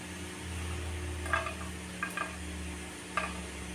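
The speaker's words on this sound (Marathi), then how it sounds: "तर लसूण घालूया आपण." Minced garlic fries gently in hot oil for egg fried rice, a soft, quiet sizzle with a few light clicks of a spatula against the pan.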